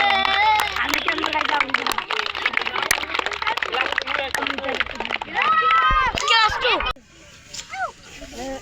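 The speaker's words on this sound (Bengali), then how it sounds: "ঠিক আছে একটু হাততালি" A group of people clap their hands at an outdoor tree-planting gathering for a jamun tree at a government primary school, a loud, sustained patter of applause mixed with voices, then cutting off to quieter talk.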